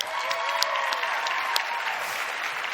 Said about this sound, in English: They deserve a round of applause, really.